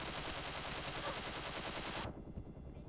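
Rapid automatic gunfire rattles loudly and continuously in a video game, a dense sustained burst that cuts off sharply near the end, leaving a quieter low rumble.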